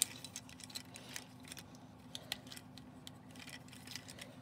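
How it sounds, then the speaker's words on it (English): Plastic Transformers Earthrise Deluxe Trailbreaker toy having its legs folded back, a series of small, faint clicks and ratcheting snaps from the plastic joints, close and quiet with no voices. "you fold each of the legs back"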